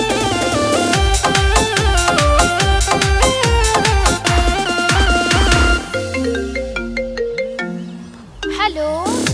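A telephone ringtone melody plays in a Bhole Baba DJ song: loud, repeating electronic ring tones over a pulsing beat, followed by descending synthetic tones.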